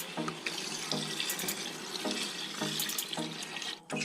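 Water runs from a tap into a pot for a chicken kabsa, a steady splashing flow broken by regular bubbly gulps, alone and fairly close.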